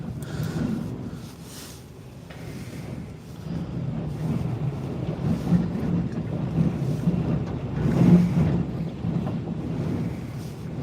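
Strong, bitterly cold gusts of 90+ mph wind in the Columbia River Gorge, Oregon, a loud, continuous roar buffeting the microphone and swelling and easing in waves, with no talking.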